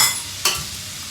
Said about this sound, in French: On va continuer la cuisson dans la casserole.